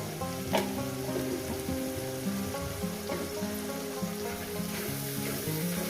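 Chicken curry sautéing with turmeric in a pan, a steady close sizzle and crackle with occasional stirring scrapes, mixed with faint music in the background.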